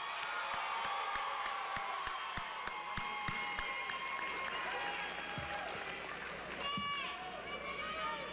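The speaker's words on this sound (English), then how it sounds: "Let's give this crew of graduates here another big round of applause." A crowd at a summer charter school graduation cheers and claps for the graduates, dense applause with whoops and sharp claps over a busy background of crowd noise and chatter.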